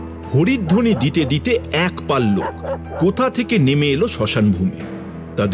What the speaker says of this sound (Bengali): তারপর কোথা থেকে বন জঙ্গল ফুঁড়ে 4-5টা কুকুর ঘেউ ঘেউ করতে